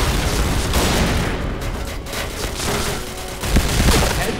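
Rapid bursts of M4A1 rifle fire in the online shooter Point Blank, loud and close, with shots clustering in quick volleys across the stretch and no talking over them.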